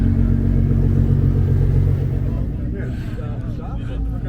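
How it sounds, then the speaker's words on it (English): A Nissan GT-R with a big rear wing rolls out at an outdoor car show, its engine giving a deep, steady rumble close by that softens slightly as it moves off, with someone talking over it. "Got a Nissan GTR rolling out with the big wing. Sounding good."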